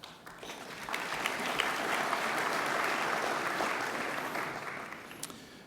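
Sustained, dense applause fills a room at a general luncheon for safety and security awards for passenger rail. It swells after the first second, holds steady, and tapers slightly toward the end, with a few louder claps standing out near the close.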